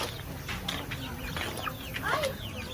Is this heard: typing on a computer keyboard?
no